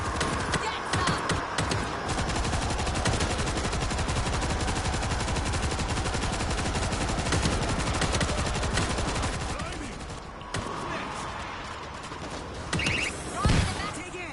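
Rapid, sustained bursts of gunfire from stationary mounted guns in the zombie shooter World War Z, set in New York, dense and loud throughout with a brief lull near the end and a few sharp blasts after.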